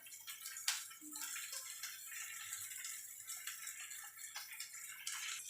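Vegetables for a Bengali dudh shukto, a milky mixed-vegetable curry, dropped into a bowl of cold water after boiling, giving a steady close wash of splashing and light rattling with no voices.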